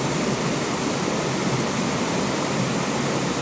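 Steady rushing water of a river flowing past a riverbank, a continuous broadband wash that stays constant and fairly close throughout, with no voices.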